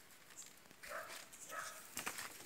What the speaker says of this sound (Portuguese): os cachorros tá latindo lá embaixo